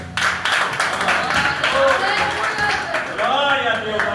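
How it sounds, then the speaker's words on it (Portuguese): A church congregation claps hard in a dense, steady burst of applause lasting the whole moment, with a voice speaking over it. "A igreja aplaude bem forte."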